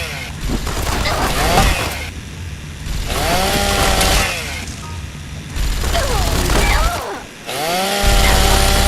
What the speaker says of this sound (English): Can I just chainsaw you in peace?